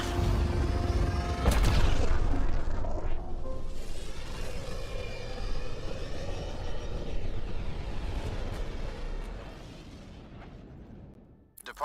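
The Tempest spaceship departs the Nexus station in the video game Mass Effect Andromeda: a loud, deep rumbling engine roar with a heavy thump near the start, sustained and gradually fading out.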